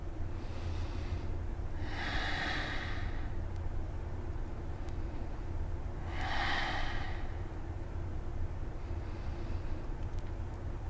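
Slow, deep breaths during a root chakra yoga practice: two broad, soft exhales a few seconds apart, close and gentle over a low steady hum, with no talking.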